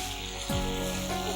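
Schezwan chicken with capsicum stir-fries in a pan, giving a steady broadband sizzle with a brief soft clatter midway, close and continuous with no talking.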